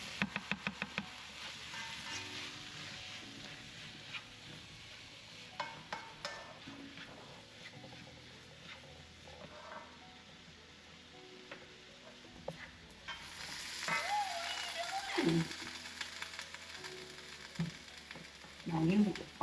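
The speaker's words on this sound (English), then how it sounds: "And then we are going to add in our Italian sausage and our ground beef." Italian sausage and ground beef fry in a pot with a steady, soft sizzle, broken by scattered knocks and scrapes from stirring that grow busier and louder toward the end.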